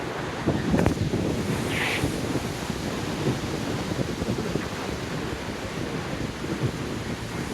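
Continuous rushing water fills the scene, a steady broad roar of a waterfall and a river flowing below, with some wind buffeting the microphone.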